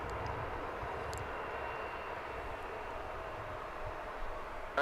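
A jet airliner at DFW Airport gives a steady, distant roar that holds level throughout with no talk, a faint low rumble underneath.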